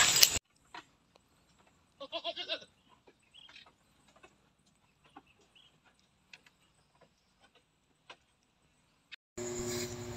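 A goat bleats in a farm pen, a single quavering call midway through near-silent surroundings with faint scattered knocks and clicks, bracketed by brief louder noise bursts at the start and end.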